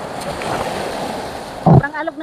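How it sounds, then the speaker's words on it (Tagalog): Rough sea surges and splashes among the rocks along the Cape Collinson coast, a continuous close wash of water and wind noise with a sharp louder splash near the end. "Sobrang alog ng tubig."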